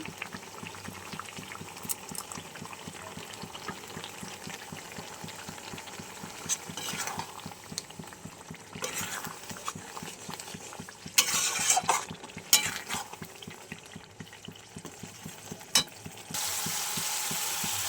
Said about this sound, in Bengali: কাতলা মাছের মাথা দিয়ে আর মাছ দিয়ে রান্না করব। চলো বেশ সুন্দর করে কষিয়ে নিই।